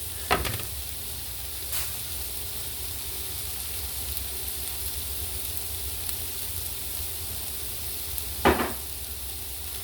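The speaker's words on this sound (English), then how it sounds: "I'm just going to put a little bit more butter in. That's a lot more butter." Butter melting and sizzling in a pan for catfish etouffee: a steady, soft frying hiss throughout, broken by two brief knocks near the start and end, with no voices.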